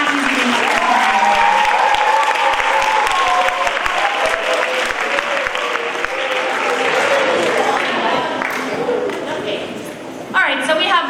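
A school assembly audience applauds after a children's Native American dance, with loud sustained clapping from a crowd under a speaking voice. It tapers toward the end as the speech continues.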